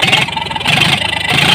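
A tractor engine running with a large open pipe fitted in place of its silencer, giving a loud, steady, throaty idle close to the microphone with a slight pulsing rhythm and no talk.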